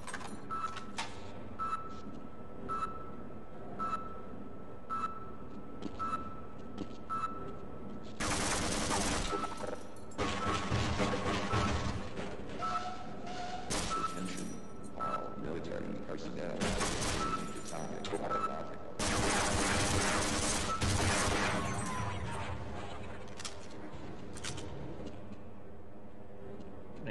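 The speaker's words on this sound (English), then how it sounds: "An angry little turret" An automated turret in the Half-Life video game fires in loud rattling bursts. Quieter mechanical ticks come between volleys, and several sustained barrages come in the second half.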